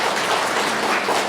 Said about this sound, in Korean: 우리 한번 박수로 한번 축복해 드립니다